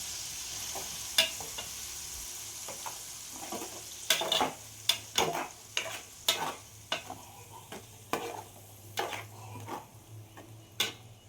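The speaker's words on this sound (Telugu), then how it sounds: "ముందుగా మిక్సీ పట్టి ఉంచిన టమాటా, ఉల్లిపాయ పేస్ట్ వేసుకొని బాగా మిక్స్ చేసుకోవాలి." Tomato and onion paste sizzles in a pan for a fish curry, stirred with repeated scraping and clinking strokes of a spoon against the metal, steady and close over a soft frying hiss.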